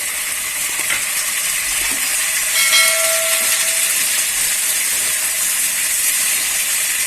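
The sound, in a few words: tomatoes added to frying onions in a pan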